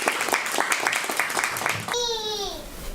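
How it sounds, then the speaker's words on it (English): Clapping from a temple audience at a Sunday feast program, uneven hand claps for about two seconds with voices and children's chatter, then a sustained sung or played tonal note takes over. "Let's have a big applause to him."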